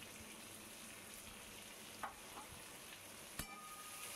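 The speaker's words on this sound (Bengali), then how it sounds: "এবারে যে পেঁয়াজটাকে কেটেছিলাম সেটা ওই তেলের মধ্যে দিয়ে দিলাম।" Chopped onion dropped into hot oil in a home kitchen pan, a soft continuous sizzle at low volume with a couple of sharp clicks and taps from the pan or spoon.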